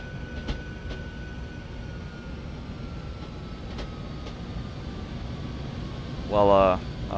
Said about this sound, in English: I completely forgot how to drive this freaking train.